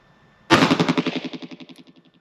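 A single loud gunshot from a High Standard DM101 Derringer in .22 Magnum fired at an outdoor target, a sharp crack followed by a long, rapidly pulsing echo that rolls away and fades over nearly two seconds.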